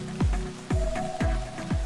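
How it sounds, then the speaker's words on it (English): Rain from sprinklers in the video game Sound Of Drop, heard as four separate plinking water-drop sounds spaced about half a second apart, each with a falling pitch. "I run for it through the rain from the sprinklers."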